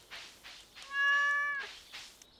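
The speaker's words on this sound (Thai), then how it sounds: "อ้าวแมวอยู่นอกบ้านได้ไง" Cat meowing in the video game Stardew Valley: one clear, drawn-out meow in the middle, framed by soft short sounds, fairly quiet and alone.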